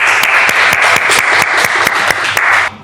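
An audience at a televised cooking competition claps loudly and steadily, a dense close wash of many hands with sharp individual claps standing out, cutting off abruptly at the end.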